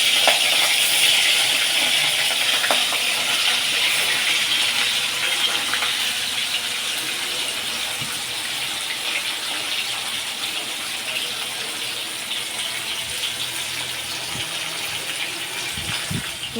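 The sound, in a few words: rui fish frying in hot oil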